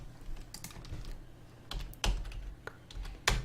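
Keys clack on a computer keyboard in a few scattered taps and short clusters, close and fairly quiet, with no talking over them.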